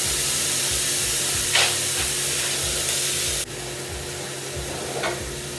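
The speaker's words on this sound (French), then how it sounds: "Et on va faire dorer la viande sur toutes les faces." Two pieces of beef chuck brown in a Dutch oven with a loud, steady sizzling hiss, broken by a couple of brief spatters and a sudden drop in intensity midway as the meat shifts.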